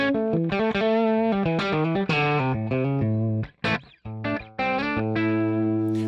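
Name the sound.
Gibson SG through Helix Brit Trem Jmp amp model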